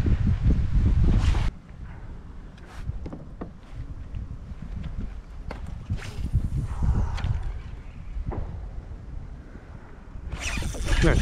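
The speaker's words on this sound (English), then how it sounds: "I was hoping that wind was going to die down a bit." Steady wind buffets a small fishing boat on open water in Eastern North Carolina near dark, a continuous low rumble with gusty swells, louder at the start and end, plus occasional small knocks and clatters.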